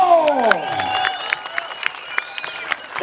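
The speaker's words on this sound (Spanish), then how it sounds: "¿dónde está el aplauso?" A rodeo crowd applauds and cheers in a broad wash of clapping, while an announcer's amplified voice carries over it and a few sharp claps and shouts stand out.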